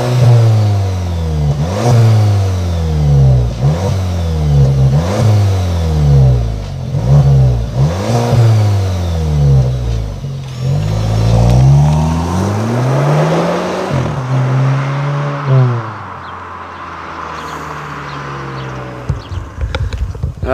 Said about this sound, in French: on va faire écouter le son moteur aux abonnés et également leur faire 2-3 petits passages